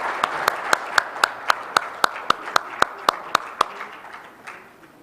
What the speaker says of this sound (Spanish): Le pedimos por favor un aplauso.